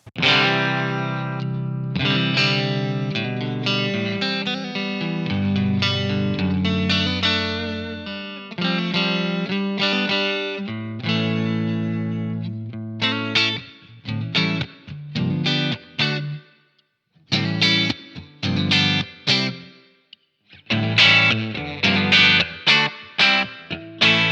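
Electric guitar played through the clean channel of a Blackstar Ruby DA100 amp, bright chords and picked phrases with short pauses between, loud and close with no talk.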